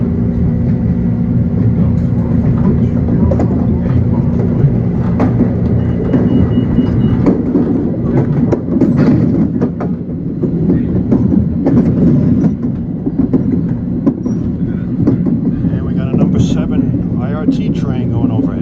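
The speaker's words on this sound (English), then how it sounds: "Train going overhead, heading for his next stop at Queensboro Plaza." A New York subway train rumbles and clatters on an elevated track overhead near Queensboro Plaza, a loud sustained roar with rhythmic clicks and screeches from the rails.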